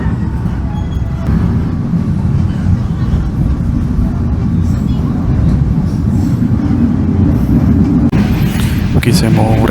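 Inside the Kamandaka passenger train between Semarang and Purwokerto, a steady, loud low rumble of the running carriage fills the whole stretch. Brief knocks and rattles come near the end, and speech is heard over the din.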